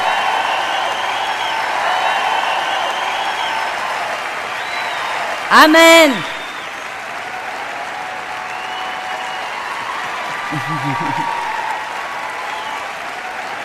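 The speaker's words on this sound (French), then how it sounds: "Applaudissons fort à Dieu." A church congregation applauds during a French-language sermon. Loud, sustained clapping fills the whole stretch, with a single voice briefly calling out over it.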